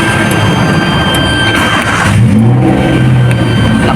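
A manual-transmission Honda Civic engine idles loudly and close by, then revs up midway, and the pitch climbs and holds at a higher steady drone.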